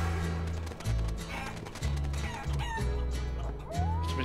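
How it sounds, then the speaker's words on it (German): Chickens cluck loudly in the video game Guacamelee, a busy cluster of close clucks and squawks with a rooster-like crow, layered over a pulsing low background music track. "Was mit den Hühnern auf sich hat"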